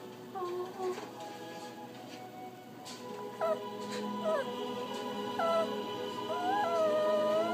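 A puppy whimpers and whines in a series of high, wavering cries, close by, over a low background hum and a faint voice.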